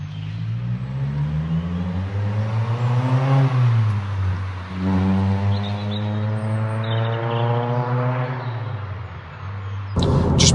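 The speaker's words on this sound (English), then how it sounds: "Making my way down this quite fast B road, and very noisy inside." Cabin noise inside a Ford Fiesta ST Mk5 driven fast on a B road: loud, steady engine drone that rises in pitch through the gears, with a gear change midway and heavy road roar throughout.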